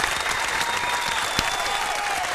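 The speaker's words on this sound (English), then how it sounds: "Clap it up." A studio audience applauds in steady, dense clapping throughout, loud and continuous without any voices on top.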